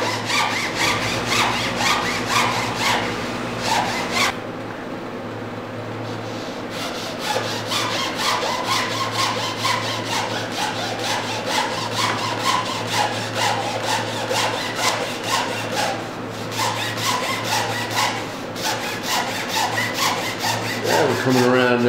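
Wood is sawn by hand along a marked line to free a cameo cutout, a loud, close, rapid rasping stroke that runs almost continuously, with a brief pause early on and a squeal near the end.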